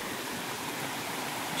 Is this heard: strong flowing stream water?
yes